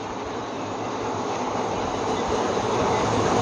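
Interior of the Shalimar to Puri express running near Khurda Road, a steady, loud rumble of wheels and carriage noise that builds slightly, without clear speech.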